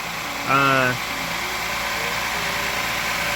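A 2020 Hyundai Palisade engine idles steadily at close range, a low even hum that continues under a brief voice near the start.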